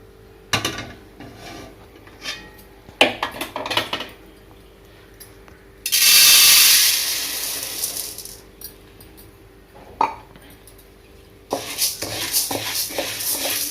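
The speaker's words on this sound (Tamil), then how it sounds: "இந்த மாதிரி வறுத்துக்கிட்டே இருங்க." White urad dal being dry-roasted in a pan for murukku, with scattered scraping and stirring clatters and a longer hissing, rustling sizzle partway through, close and moderately loud.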